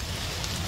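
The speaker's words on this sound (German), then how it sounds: "Es regnet." A brief wash of steady rain hiss, soft and even, with no other sounds standing out.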